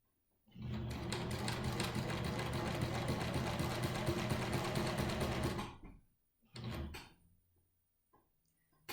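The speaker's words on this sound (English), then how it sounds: "you're going to do a straight stitch, and when you get to the first line, you're going to stop and back stitch." A sewing machine straight-stitches a fabric face mask, running in a loud, close, continuous whir for about five seconds, then stops; a short second burst of stitching follows before it goes quiet.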